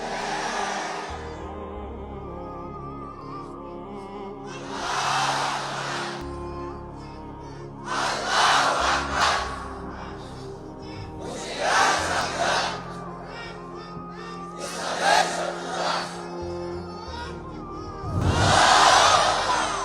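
A large crowd at a political rally in Bangladesh chants slogans in unison, with loud swelling bursts of voices repeating at regular intervals between quieter pauses, heard from within the gathering.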